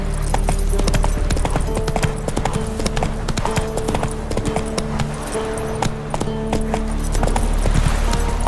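Horse hooves in The Witcher 3 video game, a brisk rhythmic clip-clop of a ridden horse moving at speed, close and prominent, with jingling tack and steady ambience underneath.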